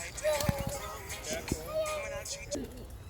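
Pigeons cooing by a park lake where geese and coots gather, a few soft drawn-out coos close by over outdoor background noise, with brief knocks and a voice in the background.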